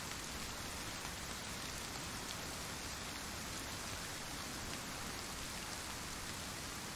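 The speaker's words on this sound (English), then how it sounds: "hopefully the rain won't last too much longer" Steady rain pours down in the video game DayZ, a dense, even hiss of drops on surfaces that holds constant and loud throughout with no voices.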